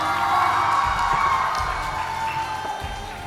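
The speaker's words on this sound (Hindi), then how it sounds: "सो आप सभी के जोरदार तालियों के साथ मैं मंच पे आमंत्रित करना चाहूंगा" An audience cheers and applauds for a special guest, a prominent Arunachal Pradesh actor, being welcomed onto the stage at a dance competition. The sound is a steady, fairly loud crowd roar with claps and whoops, fading slightly toward the end.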